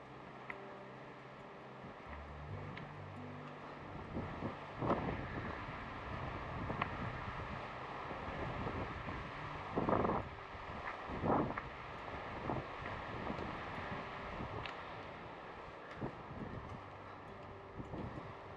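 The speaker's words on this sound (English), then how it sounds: "I think that your microphone is shielded from the wind by my body here." Gusty wind buffets the microphone along a hiking trail in Morgan Territory Regional Preserve, a low rumbling roar that swells and fades in irregular bursts, fairly quiet overall and with no talking.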